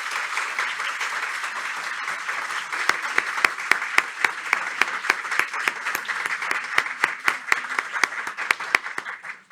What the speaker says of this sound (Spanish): ella se merece un gran aplauso